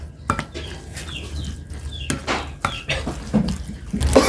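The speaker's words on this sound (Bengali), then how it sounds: "আমি সবগুলো উপকরণগুলো আমি ভালোভাবে মিশিয়ে নিচ্ছি।" A spoon clinks and scrapes against a bowl as ingredients are mixed with sauce for a bread-based snack, making close, irregular clatters and rubbing scrapes.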